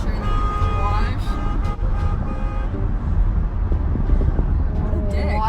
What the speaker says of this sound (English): Why is the he honking at you?